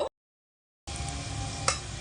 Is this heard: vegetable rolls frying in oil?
yes